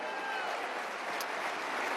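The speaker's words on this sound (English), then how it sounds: "Everybody give the senator a big round of applause." Audience applause for a senator at CPAC, a dense, steady wash of clapping that runs the whole time at moderate distance with no clear gaps.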